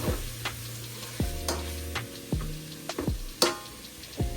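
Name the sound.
stirring whole spices into biryani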